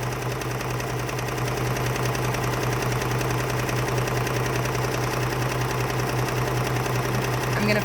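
White FashionAire 2360 sewing machine winding a bobbin, a steady close whirring hum with a fast mechanical patter running evenly throughout.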